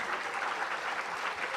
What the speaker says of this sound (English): Let us keep up the energy and applaud our esteemed dignitaries.